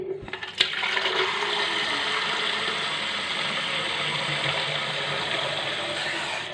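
Water running steadily into a container being filled to water small plant pots, a continuous hissing, gushing stream close by after a couple of brief clunks at the start, with no talking.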